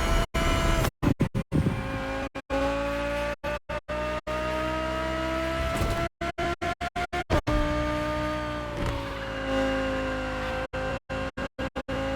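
A 2020 Audi R8 LMS GT2 race car, built for GT2 European Series racing, drives in the video game The Crew Motorfest, its engine note rising and falling steadily, loud and close, broken by brief cutouts.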